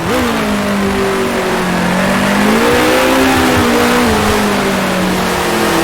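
A 1966 Formula 1 racing car in Grand Prix Legends at the Dutch Grand Prix, its engine droning loud and steady with rising and falling pitch as it revs through gears, with a light hint of tire scrub, no voices.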